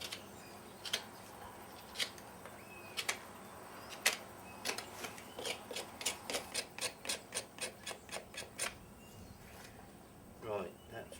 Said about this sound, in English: I'm just paring a little bit off the sole so that I can see how far to trim.